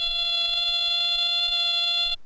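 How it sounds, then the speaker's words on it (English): A school fire alarm bell from an old 16mm educational film rings loud and steady, a continuous metallic tone that cuts off abruptly near the end. "Someone in the office will then sound the fire alarm bell and call the fire department."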